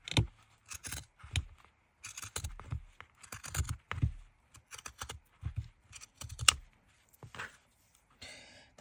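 The side edge of a no-sew journal being trimmed, rapid close crisp cutting and clicking sounds in uneven bursts, quiet and without any talking.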